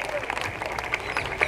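A crowd applauds for Rajeev Ghosla at a political gathering, a steady wash of clapping heard briefly.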